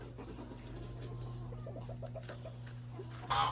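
A chicken clucking in a quick run of soft, close notes over a steady low hum, fairly faint, followed by a brief louder rustle at the end.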